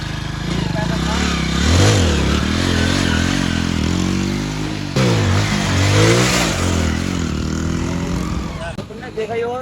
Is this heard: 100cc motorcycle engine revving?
yes